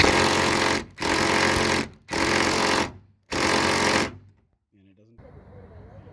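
A Ridgid power drill with a T50 bit works on painted-on hood bolts of a Jeep Wrangler JK, making four loud, rattling bursts of about a second each, followed by quiet and faint sounds.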